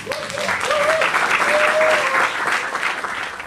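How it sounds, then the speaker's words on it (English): A crowd applauds steadily at an outdoor Notting Hill Carnival plaque unveiling, a dense continuous clatter of clapping with a whistle-like tone sliding in and out underneath. "Give it a round of applause."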